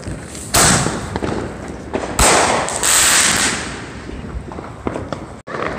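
Artillery shell fireworks at a family Fourth of July celebration, several loud booming bursts with crackling tails, one sharp blast after another at irregular intervals, heard close and outdoors.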